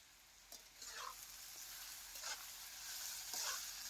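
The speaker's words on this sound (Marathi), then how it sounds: "टमाटो बी केला चांगला भाजून घ्यायचा" Onion and tomato fry in a pan, giving a soft, quiet sizzle with a few gentle scraping strokes as the mixture is stirred, all up close.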